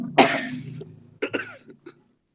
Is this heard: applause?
no